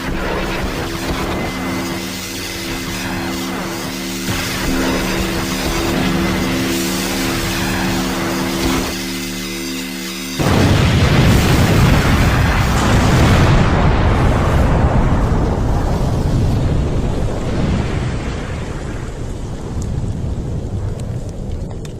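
A big explosion in a game parody lands about halfway through, a sudden loud broadband blast after a tonal musical passage, followed by a long rumbling roar that slowly thins out like rolling thunder and debris.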